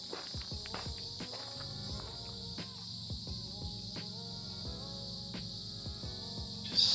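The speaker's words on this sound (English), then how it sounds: "Have those cicadas making that noise." Steady high-pitched cicada buzzing fills the background throughout on a hot summer mountain trail, with scattered soft crunching footsteps and rustles nearby.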